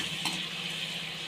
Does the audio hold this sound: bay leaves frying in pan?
yes